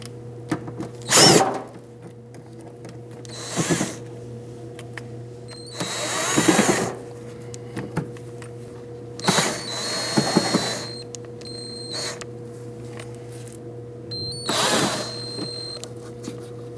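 A power tool, most likely a drill or driver, runs in several short bursts as it removes four T25 screws from the rear fender liner of a 2009-2017 Audi Q5. The whirring bursts sound close and stand alone, with quiet pauses between them.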